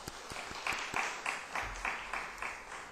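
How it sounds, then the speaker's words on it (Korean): A church congregation claps together in a steady, rhythmic beat, each clap a soft, moderately close burst repeating about three times a second. "박수 한번 주세요"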